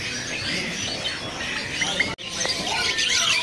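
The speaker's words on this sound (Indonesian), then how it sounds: "Ready juga di sini burung terucuknya nih. Ini terucuk mana Pak? Terucuk Jawa Timur." An East Javan sooty-headed bulbul (terucuk) in a bird-seller's shop gives repeated squawking chirps over a busy hiss of other birds and background noise.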